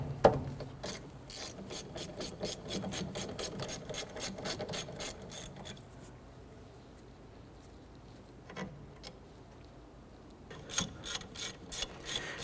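A ratchet clicks rapidly and steadily as it loosens the brake caliper bolts on a Chevrolet Impala, then pauses, gives a few isolated clicks, and resumes a quicker run near the end. The sound is close and fairly quiet.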